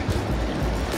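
Sea water surges in at a beach at Dhanushkodi, rushing in a steady low roar with swelling pulses of broadband wash, close by and fairly loud.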